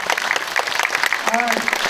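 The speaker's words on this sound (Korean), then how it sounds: "큰 박수 부탁드리겠습니다" Audience applause at a Korean film screening's audience talk event, a short burst of crowd clapping, with a voice speaking briefly over it near the end.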